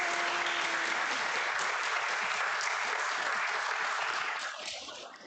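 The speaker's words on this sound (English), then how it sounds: "Give them big applause for their practice" Children and congregation at a Sunday service applaud after a lotus flower meditation practice, a dense burst of clapping that holds strong, then thins and fades near the end.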